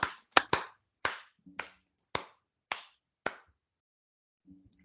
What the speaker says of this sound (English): A lot of claps from you.